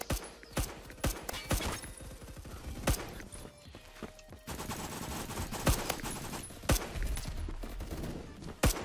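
Rapid bursts of gunfire in the video game Phantom Forces, with loud sharp shots and short automatic volleys repeating across the whole stretch over a dense background of game noise.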